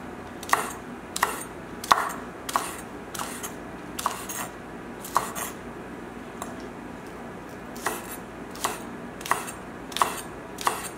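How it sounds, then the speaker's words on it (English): Kitchen knife chopping vegetables for a roasted salmon dish with ginger-scallion sauce and charred green beans, about fifteen crisp, close taps on a cutting board in a steady, slightly uneven rhythm, with no speech. "We're just going to chop."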